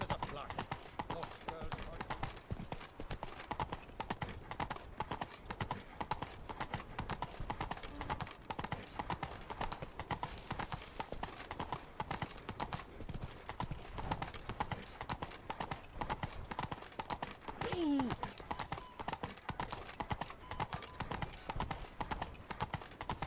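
Roach the horse trots along in The Witcher 3, with hooves clopping in a steady, even rhythm throughout and a brief whinny partway through.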